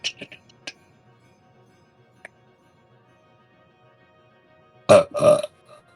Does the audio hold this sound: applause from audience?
no